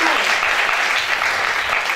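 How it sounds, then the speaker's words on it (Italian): An audience at a football-themed gathering claps warmly, a dense, loud, continuous patter of many hands with some voices faintly underneath. "Un applauso anche a loro."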